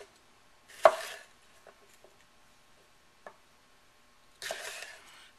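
Knife chopping bell pepper strips into quarters on a cutting board, heard as a few quiet, sparse cuts: one sharp thump near the start, faint ticks in between, and a softer cluster of cuts at the end.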